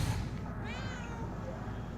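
A cat in the video game Murdered: Soul Suspect gives a single drawn-out meow with a rising then falling pitch, set against a constant low hum of game ambience.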